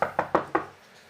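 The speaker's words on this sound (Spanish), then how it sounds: "Golpearon la puerta." Four sharp knocks on a wooden door, evenly spaced and close, each with a short hollow ring, followed by quiet room tone.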